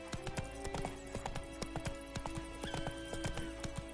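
Roach the horse from The Witcher 3 galloping, a fast steady clip-clop of hooves with a brief whinny, loud and close and heard on its own.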